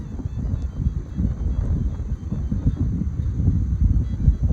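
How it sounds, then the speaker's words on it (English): Breezy, cold outdoor air on the Appalachian Trail rumbles steadily against the microphone in uneven low gusts, with no other clear sound. "a little breezy out today"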